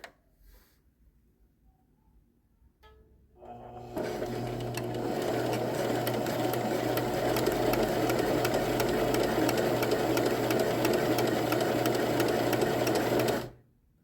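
A sewing machine runs steadily at a fast, even rhythm while it stitches two layers of doll leg fabric a quarter inch from the edge. A few quiet clicks come first, then about ten seconds of continuous whirring at moderate level, with no talk.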